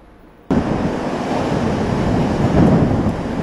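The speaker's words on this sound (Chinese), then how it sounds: "狂风携带巨浪冲上海岸" Hurricane-force storm winds drive huge waves onto the coast of south-west England, a sudden loud roar of surf and wind that rises and stays heavy and continuous without any voices.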